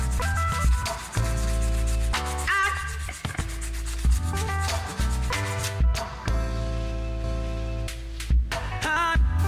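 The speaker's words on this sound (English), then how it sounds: "sand it." Sandpaper rubs back and forth over the wooden handle of a tiny hammer, a close, steady rasping with rhythmic strokes and brief pauses.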